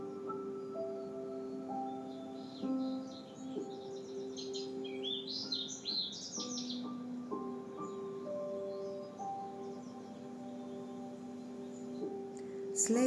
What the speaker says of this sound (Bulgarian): слушайте нежният звук на птичките